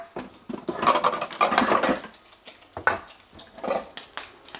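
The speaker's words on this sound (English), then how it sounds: "I'm going to grab another frying pan so that I can dry fry the noodles" A metal frying pan clanks and scrapes in short bursts, being moved and set down with light rattling, no voices.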